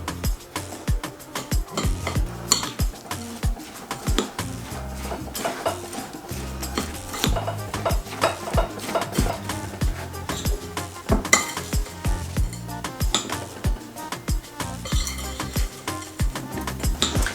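A Kinder Bueno cake mixture with melted butter is stirred in a bowl, a steady run of scraping and clinking from the utensil against the bowl, close and fairly loud, with no talking.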